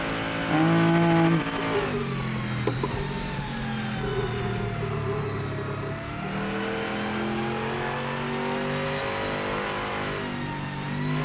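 Race car engine in the Project Motor Racing video game revving loudly and continuously, pitch climbing and dropping through gear changes as the car is driven around a test track.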